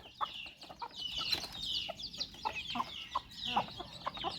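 A mother hen with young chicks clucks steadily, her low repeated clucks mixed with a constant high peeping chorus from the chicks, close and continuous.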